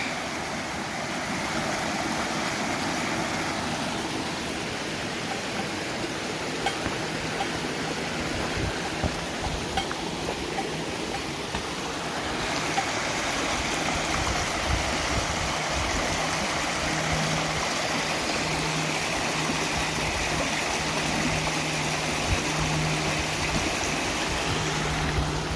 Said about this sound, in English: just another view of this incredible waterfall